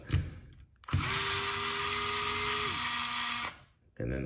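A Craftsman 4V electric screwdriver loosening screws makes a steady, close motor whine that runs for about two and a half seconds and then winds down, with brief handling noises before and after.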